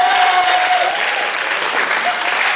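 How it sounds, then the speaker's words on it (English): A school audience at a post-prom show claps in loud, sustained applause that fills the room, with a brief tonal whine underneath and no clear speech. "Give Sparky a big round of applause."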